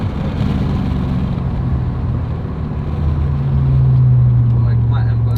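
A 900-horsepower BMW M550 with E50 fuel and methanol injection roars at full throttle, a loud sustained engine drone that climbs in pitch near the end, heard from inside with a voice talking over it.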